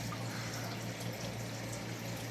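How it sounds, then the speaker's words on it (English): A creek flows steadily outdoors beside an Empress tree, giving a constant soft rushing and trickling murmur with no voices. "There's the creek."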